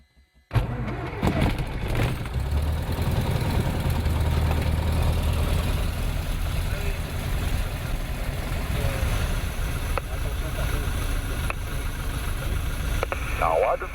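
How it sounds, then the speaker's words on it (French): A cold Jodel light aircraft engine cranks and catches, then settles into a steady, loud idle that runs throughout, with a brief rise in noise near the end. "Mise en route, moteur froid, injection manuelle. 4 démarreurs sur marche."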